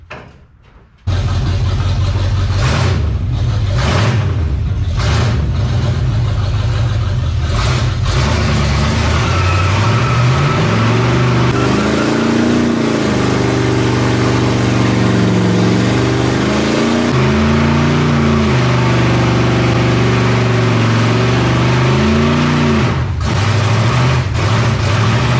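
An old dirt track race car that had sat for years, revving hard during a burnout, its engine a loud continuous roar rising and falling through repeated revs from start to finish.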